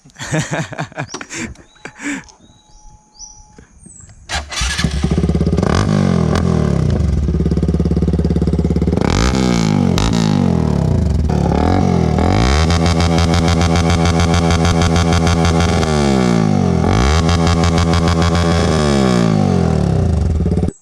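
A modified TVS Apache RTR 200 motorcycle with a changed exhaust is started after a few quiet clicks and handling noises, then idles loudly and close with repeated throaty revs that rise and fall.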